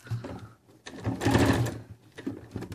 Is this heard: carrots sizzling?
no